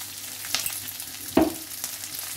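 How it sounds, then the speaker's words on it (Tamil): Onions sautéing in a pan for chilli idli, a steady close sizzle with a couple of sharper stirring scrapes, no voices. "இப்போ நம்ம போட்ட வெங்காயம் பாருங்க நல்லாவே வதங்கிடுச்சு."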